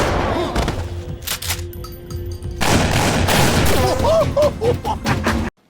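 A shootout in the film Prajurit Tanpa Tuan: loud, dense bursts of gunfire and heavy thuds crowd together, then cut off abruptly at the end.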